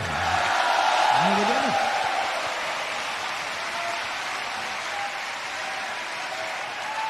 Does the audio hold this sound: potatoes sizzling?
no